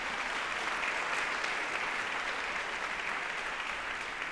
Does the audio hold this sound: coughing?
no